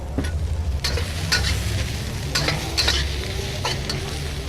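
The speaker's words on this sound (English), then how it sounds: "we're gonna finish with a little bit of sesame oil and cook the greens" Leafy greens stir-fry in sesame oil in a pan. A steady, close sizzle runs throughout, broken by several sharp scrapes and clatters of the utensil tossing the greens, with no talking.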